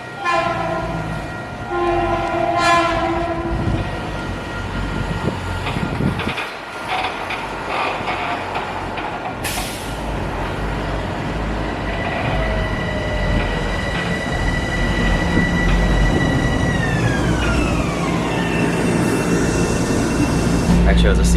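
A Metro North commuter train ride toward Grand Central, with a steady loud rumble of rolling cars, a horn blast, and gliding squealing wheel tones sweeping downward later on.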